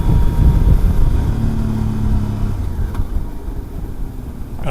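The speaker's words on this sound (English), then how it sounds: "Nice shift, Katerina." A motorcycle on a curvy stretch of BC Highway 101 accelerates loudly up close, its engine note climbing, then dropping briefly as it shifts gear before pulling on at a lower pitch.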